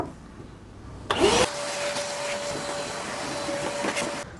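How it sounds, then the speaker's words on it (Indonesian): A vacuum cleaner connected to a Mollar TS600 mini table saw switches on with a sudden whoosh and rising whine, then runs as a steady loud hiss with a constant tone. "Saya lupa untuk menyalakan vacuum cleanernya."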